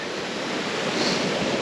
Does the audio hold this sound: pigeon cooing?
no